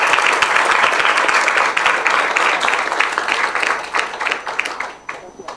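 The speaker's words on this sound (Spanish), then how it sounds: "siempre nos gusta terminar aplaudiendo a los protagonistas y las protagonistas," A crowd at a municipal music school event applauds the students, with dense, loud clapping sustained for several seconds before thinning and fading at the end.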